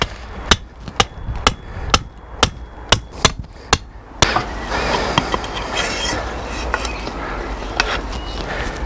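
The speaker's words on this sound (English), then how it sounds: "Now you can adjust this then to what you need by hammering them down." A hammer drives a garden pole down into the ground, about eight sharp, evenly spaced strikes ringing out close, followed by a rougher, louder stretch of clattering and scraping with scattered knocks.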